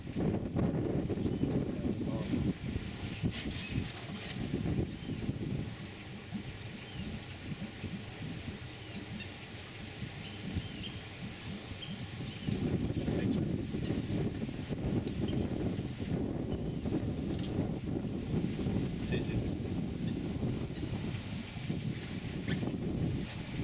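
Wind buffets an open wildlife tour boat on a river in Palo Verde National Park, Costa Rica, as a low rumbling roar that swells and eases, with birds calling faintly in the distance.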